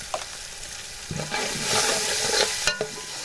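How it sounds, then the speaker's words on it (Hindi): Coriander and cumin powder roasting in a pan for beef yakhni pulao, a steady frying sizzle that swells in the middle, with scraping stir strokes and a sharp clatter of a spoon near the end. "1-2 मिनट हम इस स्पाइसेस की भुनाई कर लेते हैं।"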